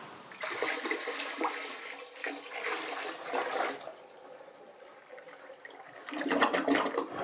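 A household toilet flushes after a bucket of collected rain-barrel water is dumped into it, giving a loud rushing surge that tapers into gurgling and trickling refill, then a second strong rush of water near the end.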